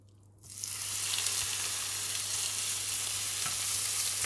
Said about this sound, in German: Aber ich brate es jetzt einmal an.